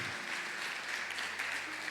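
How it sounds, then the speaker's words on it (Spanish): A church congregation claps during a Spanish-language worship service, giving a steady, even wash of applause with no speech over it and a faint low hum underneath. "Dale un aplauso al Señor, aleluya."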